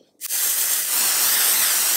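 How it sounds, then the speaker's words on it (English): Makeup setting spray is released in one long, close, forceful hiss that starts abruptly after a brief silence and holds steady for nearly two seconds. "It literally feels like I'm spraying hairspray on my face"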